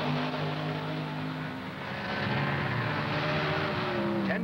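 1970 Trans Am race cars, a Boss 302 Mustang and a Javelin, race at Watkins Glen, their engines a loud, droning roar with shifting pitch as the cars pass together, rising and revving toward the end.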